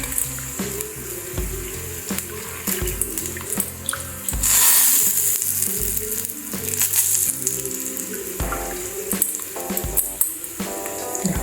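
Squeezed tamarind water is poured into a hot pan, splashing and sizzling with a series of sharp clinks and spatters close by, the liquid sound swelling in the middle.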